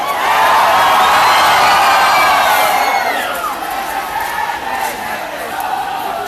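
Loud crowd of supporters cheering, whooping and shouting at a quadrilha dance contest final in Mossoró, a dense sustained roar that eases slightly toward the end.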